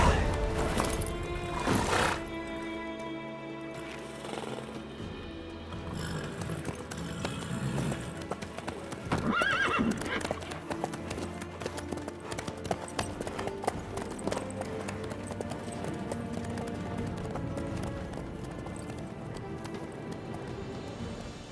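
Horse hooves clip-clopping in The Witcher 3 video game, steady rhythmic hoofbeats under game music with a whinny, moderately quiet throughout.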